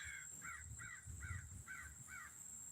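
A crow perched in a big pine tree caws six times at an even, rhythmic pace, the calls clear but somewhat distant over a steady background hiss of a park by a lake.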